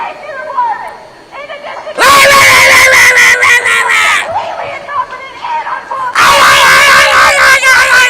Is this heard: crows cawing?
no